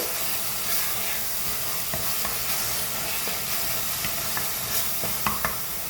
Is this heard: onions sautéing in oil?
yes